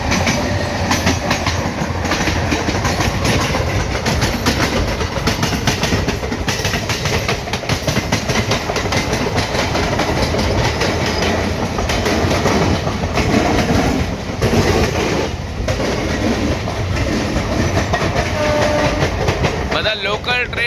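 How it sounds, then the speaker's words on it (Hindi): Loud, continuous rumble and clatter of an Indian local train and the Tamil Nadu Express racing side by side at speed on rails, with steady wheel noise throughout and faint voices underneath. "ये लोकल ट्रेन और तमिलनाडु एक्सप्रेस की रेस हो रही है"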